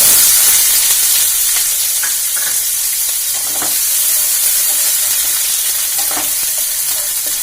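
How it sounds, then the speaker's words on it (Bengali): Chopped onion sizzles in hot oil in a pan while cooking a mixed five-lentil dal with eggs, a steady, close frying hiss with occasional stirring scrapes and no talk. "পেঁয়াজ কুচি দিচ্ছি"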